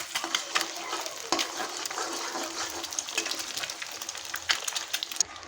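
Eggs and onion are stirred and fried in a wok, a continuous hiss and sizzle with repeated spatula scrapes and clicks, moderately quiet and close.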